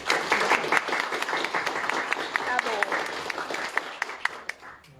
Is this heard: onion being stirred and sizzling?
no